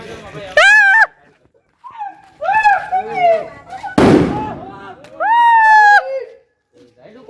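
One sharp firecracker bang goes off at a nighttime birthday celebration, a single loud burst among loud, excited voices calling out before and after it.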